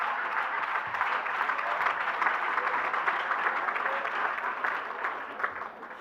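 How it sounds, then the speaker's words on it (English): Applause from a scattering of women in the audience at a Dr. Martin Luther King Jr. memorial breakfast, a steady wash of clapping at moderate loudness lasting throughout, heard from a distance in a large room. "Thank you to the few women that are clapping."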